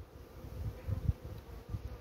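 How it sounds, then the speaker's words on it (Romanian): A bee flies close past near a hive, a faint, low buzzing drone that rises briefly as it passes, over quiet outdoor background with no talk. "Această albină care zboară pe lângă tine"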